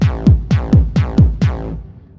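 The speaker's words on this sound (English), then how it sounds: "it's a style of electronic music with a kick that sounds like this." Hardstyle electronic music kick drum: six punchy, distorted kicks, each with a downward-sweeping pitch tail, repeat in a steady fast pulse. They sound loud and close, then stop and leave a short fading tail.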